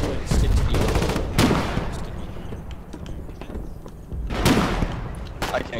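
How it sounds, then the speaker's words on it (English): Bullets striking a tank in Foxhole: dense bursts of rapid machine-gun impacts in loud clattering volleys, pausing briefly between salvos over a rumbling background, with some talk mixed in. "Doesn't last long when you're getting hit by 30 bullets."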